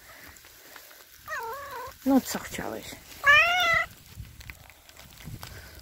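A cat meows several times nearby, short wavering cries between quiet moments, while a person speaks softly.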